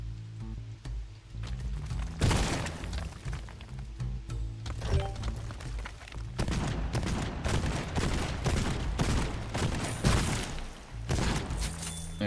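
A Slugger gun from Borderlands 2 firing in repeated bursts: loud, crackling blasts in quick succession with short pauses between volleys, over a steady game soundtrack.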